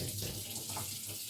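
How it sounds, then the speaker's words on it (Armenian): A cold water tap turned on, releasing a steady, continuous rush of running water with no voices. "Հիմա սառը ջուրը բացեմ,"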